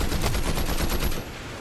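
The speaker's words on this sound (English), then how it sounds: "the Thunderburst SMG in the hands of Craze here" Thunderburst SMG gunfire in a video game: a loud, dense burst of rapid automatic shots lasting just over a second, then fading into a quieter tail.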